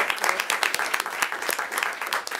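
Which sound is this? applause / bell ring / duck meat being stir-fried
applause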